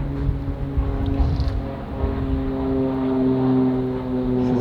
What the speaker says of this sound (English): Yeah, that is a noisy airplane.